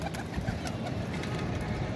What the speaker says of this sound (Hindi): ये देखें इसके ऊपर टैडी कबूतर।